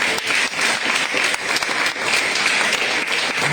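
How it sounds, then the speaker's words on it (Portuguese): A church congregation applauds in praise, dense steady clapping from many hands filling the room at an even level throughout, with no voices standing out. "Vamos aplaudir o Senhor."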